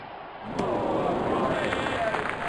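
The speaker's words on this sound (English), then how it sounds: "Crowd going mad here." Steady crowd roar from a cricket match in RealCricket 2020, a dense continuous wash of cheering at a constant moderate level with no talk over it.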